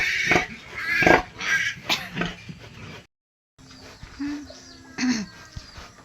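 Pigs kept on a small farm, giving grunts and squeals in short bursts that come and go, fairly close, with a brief silent gap midway and no talking.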